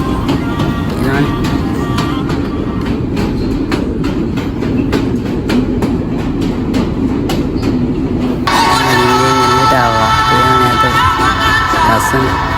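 A Colombo-bound passenger train runs along the rails near Ella, with steady clickety-clack wheel beats and a loud, continuous rumble from inside the carriage. A sharper metallic screech joins in toward the end, and people talk now and then.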